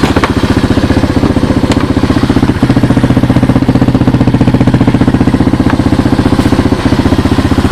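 A small 1986 Honda TRX200SX ATV engine idles steadily up close, a rapid, even mechanical putter with light clatter throughout, continuous and loud.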